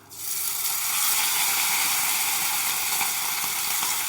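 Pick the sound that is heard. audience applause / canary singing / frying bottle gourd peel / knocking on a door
frying bottle gourd peel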